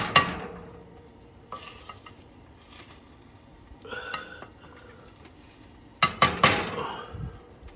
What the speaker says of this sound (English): All right, I'm basting